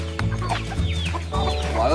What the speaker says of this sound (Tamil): இத்தனை சேவல் இருக்கு, சண்டை போடாமல் நிற்குமா?